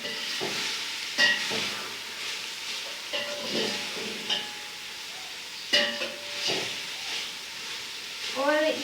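Vegetables for a Chinese dish sizzling in a pan while being stirred, with repeated scraping strokes of a spatula cutting through steady frying hiss, close and clear.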